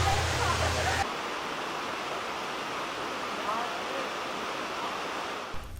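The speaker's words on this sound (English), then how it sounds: "Visitors can safely walk behind the torrent of falling water." Dry Falls waterfall on the river plunging some 80 feet over a rock shelf, a dense, steady rushing roar of falling water, loud and unbroken throughout.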